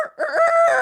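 A storyteller imitates a rooster's crow with his voice, a short, loud, wavering call that lasts under a second.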